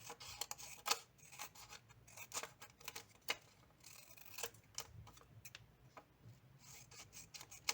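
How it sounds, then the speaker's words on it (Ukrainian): Scissors snipping through paper strips for a woven paper mat craft, a series of close, sharp irregular cuts and rustles. "Ці наші смужечки розрізаємо."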